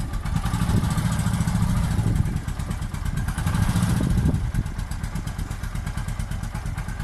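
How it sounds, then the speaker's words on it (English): A Bajaj Boxer X150 motorcycle engine idles with the choke on, a steady close rumble with a faint rhythmic clatter running evenly throughout, no talk. "I usually keep it running for like 2 minutes or so with the choke on"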